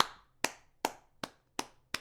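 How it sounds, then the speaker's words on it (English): Six sharp single hand claps spaced about a beat apart in an ordinary untreated room, each with a short ringing decay, fairly quiet and alone. "If I clap"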